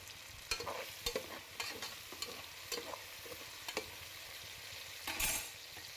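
Chopped tomatoes frying in oil for veg palav, a soft steady sizzle punctuated by repeated spatula clacks and scrapes against the pan, fairly quiet and near, with nobody speaking.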